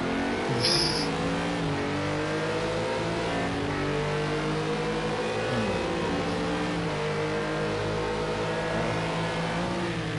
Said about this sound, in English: It's the Cadillac and it sounds good.